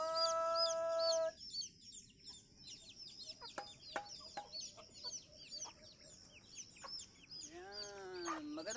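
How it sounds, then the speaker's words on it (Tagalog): Backyard farm chickens cluck and call repeatedly at close range in a rural province setting during morning feeding, with a rooster-like crow at the start and busy overlapping bird sounds throughout. "Ito po ang mga alagang manok."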